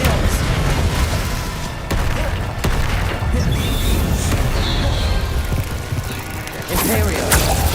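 An Expelliarmus spell cast in a Hogwarts Legacy fight: loud booming magical blasts and sharp cracks, dense and continuous with a few bright zaps, over game effects and faint voices.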